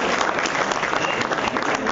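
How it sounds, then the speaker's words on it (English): Audience at an awards ceremony breaks into a loud round of applause for a speaker, dense steady clapping throughout with a faint murmur of voices beneath. "let's have a huge round of applause"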